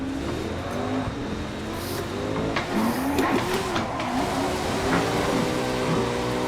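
Simulated car engine revving with rising and falling pitch during a drift simulator video game, a clutch-kick style rev from neutral, steady and fairly loud with faint tire noise, no talking.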